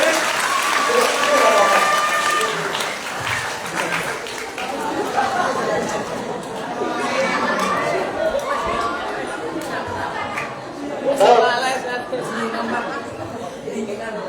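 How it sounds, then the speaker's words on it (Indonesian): Audience applause at a Hajj and Umrah religious study session, many hands clapping in a sustained burst mixed with crowd chatter and people talking throughout, fairly close and loud. "kita kasih tepuk tangan dulu tuh yang di depan"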